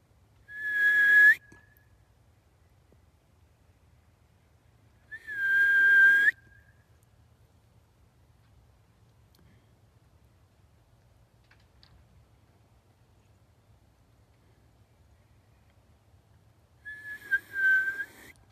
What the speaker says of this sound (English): Ah, I can't even whistle